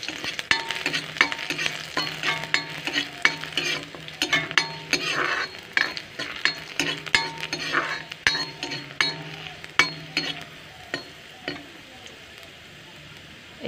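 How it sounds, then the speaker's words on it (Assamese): Chopped onion fries in hot mustard oil with a soft background sizzle, while a utensil clinks and scrapes against the pan in frequent irregular taps, close and moderately quiet. "তেলখিনি গৰম হোৱাত অলপ কাটি লোৱা পিঁয়াজ"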